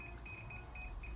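A Fluke 117 multimeter's volt detector beeps near a live electrical receptacle, giving a rapid run of short, high electronic beeps in an even pulsing rhythm over a low background hum.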